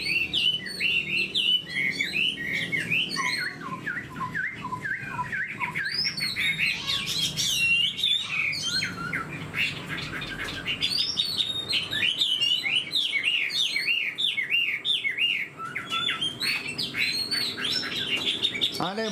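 A Chinese hwamei (họa mi) songbird, an old wild-caught bird, sings loud and close without a break. Its bright, varied phrases of rising and falling whistles and trills run on alone.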